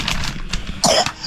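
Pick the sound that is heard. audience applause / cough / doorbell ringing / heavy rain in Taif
cough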